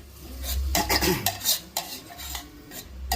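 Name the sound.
sautéing grated coconut filling in a pan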